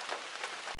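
Rain falls steadily on a campsite tent by the sea, a dense, even patter that stays close and loud throughout with no voices.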